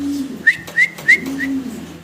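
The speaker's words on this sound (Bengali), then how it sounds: "আমরা একজোড়া রেসার কবুতর দেখতে পারতেছি" A pair of cream-bar racer pigeons gives four short, rising whistle-like calls in quick succession, fairly close and clear above a low steady hum.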